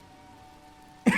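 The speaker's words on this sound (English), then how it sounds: "excuse the coughing" A single sharp cough or throat-clear bursts out suddenly near the end after a stretch of quiet room hum, close to the microphone and loud.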